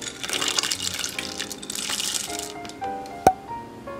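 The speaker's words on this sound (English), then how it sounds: "now we're going to add 4 ounces of white chocolate chips" White chocolate chips pour into a pot for white hot chocolate, a loose rattling patter that thins out near the end, followed by a single sharp clink.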